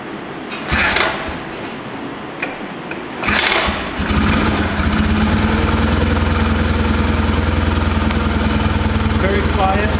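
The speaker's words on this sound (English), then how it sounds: "This motor always starts right up." A 1956 BMW R69 motorcycle engine cranks with a couple of short bursts, then catches and settles into a steady, loud, even idle that runs on through the rest of the clip.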